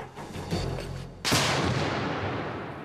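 Rifled cannon firing a single loud blast that cracks out sharply and rolls away in a long fading echo, preceded by low rumbling outdoor ambience.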